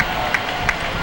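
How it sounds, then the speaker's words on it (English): A crowd roars steadily along the route of a 4th of July parade, a dense continuous wash of cheering voices with a few faint sharper shouts or claps rising briefly out of the noise. "I'm here in the crowd cheering"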